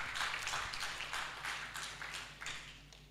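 An audience at a formal census poverty-index launch session claps for the Bureau, a faint, distant patter of applause swelling and fading in waves without any voices over it.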